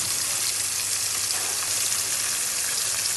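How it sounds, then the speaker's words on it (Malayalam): A large tilapia, caught fishing in a quarry in Kerala, sizzles steadily in a frying pan with a continuous crackling hiss that stays even and close, with no talking. "സിലോപ്പിയയിലെ വലിയ മീൻ ഫ്രൈ ആവാനായിട്ട് ഒരു 5 മിനിറ്റ് സമയം എടുക്കത്തുള്ളൂ"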